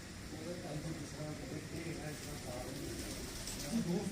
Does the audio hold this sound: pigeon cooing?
yes